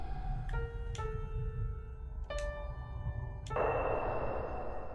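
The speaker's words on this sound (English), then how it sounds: "Play the piano by following the notes." A few bright, plinking piano notes played one at a time in the video game Fatal Frame: Mask of the Lunar Eclipse, over a low rumbling background, followed by a brief burst of noise.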